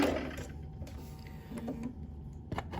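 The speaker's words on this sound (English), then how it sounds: "go ahead and sew this last final edge" A sewing machine stitches the last edge of a three-pleated cloth face mask in short, faint mechanical runs with small pauses and a louder start.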